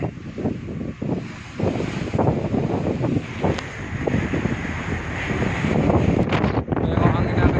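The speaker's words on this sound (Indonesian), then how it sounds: "Angin pun kencang di lautan Sumatera Merak" Strong wind gusts and rough sea buffet the deck of a ferry crossing near Merak toward Sumatra, a loud continuous roar with water and vessel noise, and people talking throughout.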